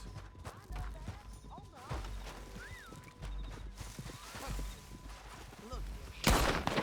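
Horse hooves clip-clop in uneven bursts amid Red Dead Redemption II game sounds, with a horse whinny, distant gunfire and a voice speaking, ending in a sharp loud crack.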